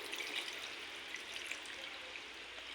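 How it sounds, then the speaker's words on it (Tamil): Milk poured into a pot while making sago pudding produces a faint, continuous trickling splash, close and steady for a few seconds with no talking. "அதனால் இப்போ நம்ம பால் ஊற்றிக்கலாம்"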